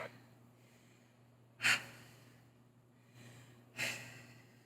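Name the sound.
heavy breathing during a strength workout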